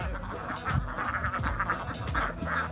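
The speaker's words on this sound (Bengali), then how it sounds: "এই হাঁসগুলো সম্পূর্ণ একেবারে প্রাকৃতিকভাবে এই পানির মধ্যে এরা চলাচল করে" Ducks on the water quack in a loose, repeated series of nasal calls, fairly close, with some soft background noise and no clear talking.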